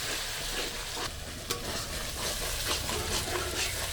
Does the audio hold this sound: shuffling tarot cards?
no